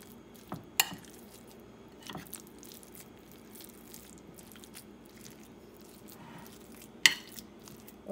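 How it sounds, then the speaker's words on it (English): Kofta meatball mixture of ground meat and onion paste stirred with a spoon gives quiet, wet squishing and a few sharp clinks of spoon against bowl, faint and irregular. "I will try to mix with the spoon"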